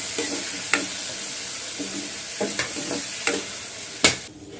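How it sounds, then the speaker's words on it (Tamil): Turkey berries sautéing in a pan with softened onions for a Tamil sundakkai kuzhambu, a soft steady sizzle broken by a handful of sharp spatula clacks against the pan. "சுண்டக்காய் போட்டு வதக்கிக்கலாம்."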